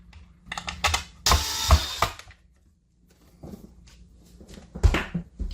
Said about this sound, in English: we just screw these all together with 6 more screws